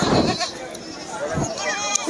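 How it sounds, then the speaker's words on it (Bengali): Goats bleat close by at a goat market in Kaitla, Bangladesh, a couple of wavering cries rising above busy market chatter and voices. "ছাগলের ভ্যাবা শব্দে বাজারটা একদমই হয়ে রয়েছে"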